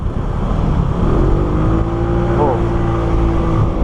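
A Suzuki Skywave 125 scooter with a 125 cc engine runs close by with a loud, steady hum and a rising rev partway through, while a person speaks over it.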